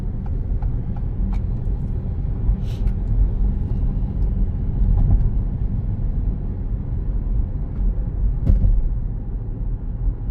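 An Acura MDX Type S SUV engine accelerates under light throttle, a low, steady rumble heard from inside the cabin, continuous and moderately loud with faint clicks over it.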